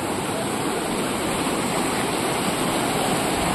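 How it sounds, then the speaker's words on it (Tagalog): Pedro Falls, a waterfall in DRT, Bulacan, roars as a steady, dense broadband rush of falling water, loud and continuous with no pauses or voices. "Ito yung Pedro Falls."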